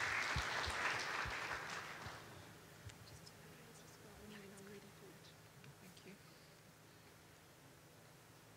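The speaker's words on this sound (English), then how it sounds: "May we give her a round of applause." Applause from a conference audience after a partner company's presenter is introduced, loud and dense for about two seconds, then fading to a low room hum with scattered faint sounds.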